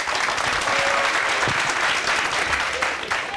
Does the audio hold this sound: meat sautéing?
no